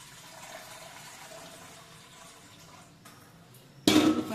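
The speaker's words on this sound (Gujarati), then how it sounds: "તો ચલો પહેલાં તો હું આમાં પાણી લઈ લઉં છું" Water is drawn into a vessel at home for cooling: a faint, low trickle and running water for several seconds, then a sudden louder gush of pouring near the end.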